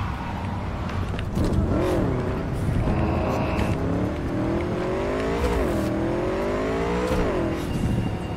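A motorcycle engine in the Cyberpunk 2077 video game revs and drones steadily, its pitch rising and falling in repeated sweeps over a continuous loud mechanical roar with no talk.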